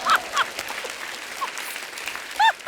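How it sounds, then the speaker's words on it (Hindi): A crowd claps in a brief burst. Scattered honk-like whoops and cheers cut in at the start and end, loud and close. "जब मैं जीतता हूँ ना तो लोग ऐसे ताली बजाते हैं"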